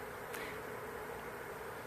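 Honeybees drift around a hive entrance during a removal, a steady, fairly faint hum of buzzing wings with one brief nearer pass, no voices.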